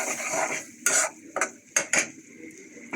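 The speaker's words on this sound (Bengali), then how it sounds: "তো আমি এই মশলা ইউজ করব এর থেকে বেশি মশলা দিব না একটু ভেজে নিচ্ছি" Spices fry briefly in a pan for a prawn dish: a faint sizzle broken by several sharp metallic clinks and scrapes of a utensil against the pan, close up and uneven in rhythm, without speech.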